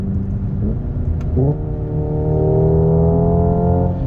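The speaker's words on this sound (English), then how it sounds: "you can actually hear it downshift because in normal or sport mode, the paddle shifters can actually shift the car" Hyundai Ioniq 5 N electric car downshifting via paddle shifters in normal or sport mode; synthetic engine tone steps up in pitch through two quick shifts, then holds a steady whine, heard close from inside the cabin.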